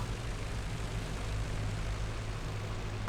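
Propeller engine drone of a WWI fighter in the IL-2 flight sim, a steady low hum passing close by at fairly constant level, with no voices over it.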